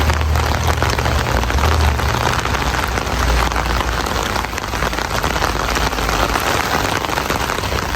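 Steady heavy rain patters and hisses on hard surfaces in downtown Toronto at night, a dense continuous wash of drops with no voices.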